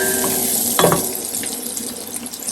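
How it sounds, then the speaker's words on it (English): Garlic, oregano and lemon peel sauté in a pan for Swiss chard with tomatoes and olives, a steady close sizzle with a short stirring rustle early on. "And we're going to add the garlic, the oregano, and the lemon peel. And we'll saute them for another 2 minutes."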